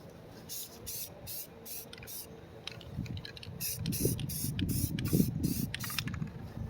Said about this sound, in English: once we've got all of our spokes sprayed, we're going to hit the center cap or lug area.